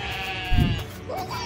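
A cartoon sheep bleats once, a short low burst rising over a steady music bed with background effects.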